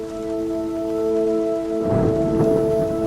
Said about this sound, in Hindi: अरे ये क्या, अचानक बारिश आ गई।